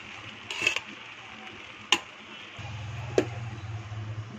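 A spoon stirs fried rice with fried cashews in a pan, giving a few sharp scraping clicks against a soft sizzle, and the frying hum grows steadier toward the end.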